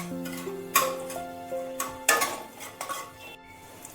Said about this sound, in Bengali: আর দিচ্ছি কিছু গরম মশলা। এটা একটু তেলেতে নেড়ে নেব।